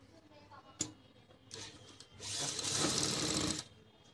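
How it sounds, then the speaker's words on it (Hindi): Sewing machine stitching a slit opening on a stone-embellished garment, heard as a brief click, then short bursts and a louder steady run of stitching for about a second, close by. "हम यहाँ सिलाई लगाएंगे।"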